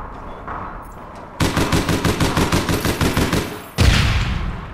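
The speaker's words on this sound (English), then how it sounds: "I can hear the gunshots." A rapid burst of automatic gunfire in the video game APB Reloaded, a steady string of loud, close shots lasting a couple of seconds, followed by another blast.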